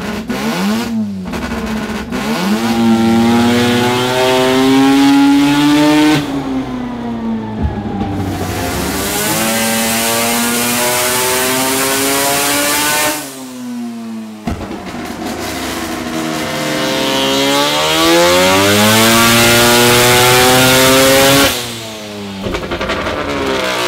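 Turbocharged Mazda 13B rotary engine on a dyno, revving up in long rising sweeps that repeat three times, each pull climbing to a loud high-pitched scream before dropping off abruptly to a lull, close and with no talk.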